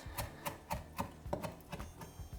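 A knife chops vegetables finely on a chopping board, with quiet, rapid, evenly spaced taps of the blade striking wood in a steady rhythm, close up and with no talking.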